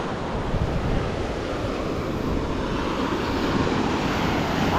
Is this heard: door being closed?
no